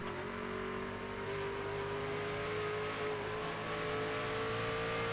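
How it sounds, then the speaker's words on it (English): A race truck in the iRacing game at Watkins Glen runs its engine continuously with a steady whine and pitch shifts through the gears. The sound is faint and distant, with no talk. "I assume it was probably just a downshift that was a bit messy there."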